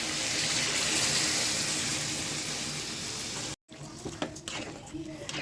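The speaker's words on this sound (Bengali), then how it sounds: "হালকা কুসুম গরম পানি এখন আমি দিয়ে দিব।" Lukewarm water is poured into duck meat cooking with garlic in a pan, a steady rushing splash over hot sizzling that runs for a few seconds, then cuts to quieter stirring clatter.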